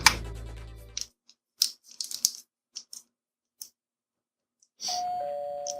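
An interphone doorbell buzzer in the video game Red Spider: Vengeance: a loud tone cuts off, sparse clicks and ticks follow, then a steady electronic buzz starts near the end, with no talking.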